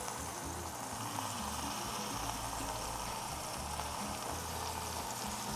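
Green plantains pressed flat in a hot cast-iron skillet for vegan mofongo sizzle as their moisture cooks out, a steady bubbling hiss with a low rumbling undertone, continuous and close.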